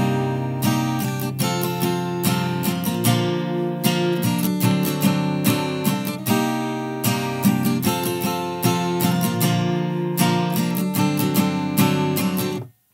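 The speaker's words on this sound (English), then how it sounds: "All right, so our chorus is going to sound like this." Acoustic guitar strumming the chorus chords of a song, a steady rhythmic pattern of bright strums played up close, alone for about thirteen seconds before ending abruptly.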